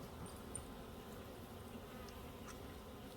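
Honey bees buzz around a crowded beehive that is close to swarming, a faint, continuous droning hum with occasional individual bees passing closer, and no voices.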